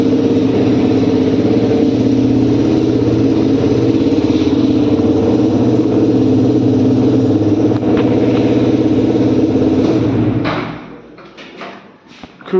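A Yamaha R15 V4 motorcycle with a faulty side stand sensor idles loudly and steadily, then cuts out abruptly once put in gear, leaving a sputtering fade into quiet.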